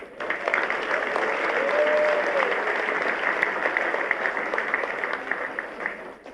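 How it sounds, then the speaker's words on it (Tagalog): An audience at a signing ceremony at PMA, Fort General Gregorio H. del Pilar in Baguio City breaks into loud, sustained clapping, a thick even burst that holds for several seconds and then thins out. "Pumapalakpak muna kayo bago ko pirmahan to. You clap your hands."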